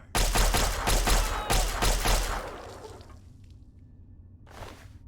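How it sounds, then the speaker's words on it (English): Rapid laser pistol shots in Fallout 3, a fast burst of sharp, loud energy-weapon blasts for about two and a half seconds, then a quieter lull and one more brief burst near the end. "this laser pistol's putting in nice work"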